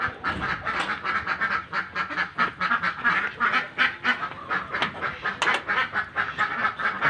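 Ducks quack continuously while being herded into a pen, a dense, rhythmic chorus of many birds close by and loud for the whole stretch.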